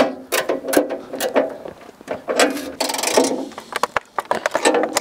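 Screws tightened by hand while mounting a budget home EV charging station, rapid ratcheting clicks and creaks in irregular bursts, close and fairly loud with short pauses between turns.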